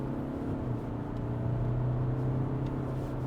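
BMW X3 20d diesel SUV accelerating hard at full throttle in comfort mode with two adult men aboard, heard from inside as a steady low engine drone and rumble that swells slightly as speed builds.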